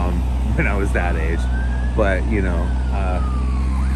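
A person talks over a faint, distant siren whose wail slides slowly in pitch behind the voice.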